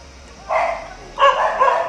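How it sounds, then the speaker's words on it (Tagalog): A dog gives two short barks at a rural spot, each a brief burst of sound with quiet background between them. "May aso pa yan."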